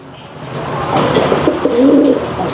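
A large contest songbird, an event bird in good condition, gives a clear, close call in a lively rippling phrase over a steady background hum of the competition venue.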